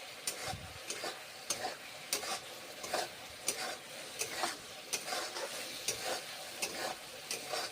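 Spices, turmeric and salt among them, sizzle in a pan for a bhindi jhol while a utensil stirs them, with regular scraping strokes over a soft, steady frying hiss.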